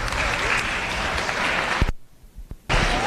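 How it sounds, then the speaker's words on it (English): Audience applause at a youth fair livestock show, a sustained crowd clapping that cuts off abruptly, leaves a brief near-silent gap with a faint clap or two, then resumes loudly. "Please give him a round of applause."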